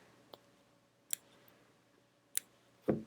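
Quiet, sharp snips of scissors cutting thread, three crisp clicks spaced about a second apart, then a duller thud, close by in a quiet room.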